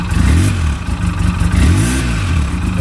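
A 2011 Polaris RZR with a suspected bad fuel pump revs twice in quick succession, its engine rising and falling in pitch each time, loud and close with a steady clattering idle underneath.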